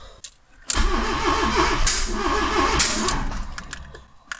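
A Fiat Seicento with a 1.1-litre turbo engine and a wrong firing order cranks, then catches and runs roughly with an uneven, stumbling rhythm, close and loud, after a brief quiet start.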